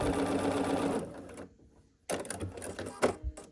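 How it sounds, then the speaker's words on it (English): A sewing machine stitches quilt block pieces with a quarter-inch seam, giving a rapid mechanical whir close up that pauses briefly, then restarts in short bursts with clicks, and no talk is heard. "I'm just making sure everything is lined up and sewing with a 1/4 inch seam allowance."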